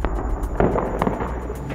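Night-time explosions over Baghuz during a siege against ISIS: a rapid series of sharp blasts and pops, some close and some farther off, over a rumbling background.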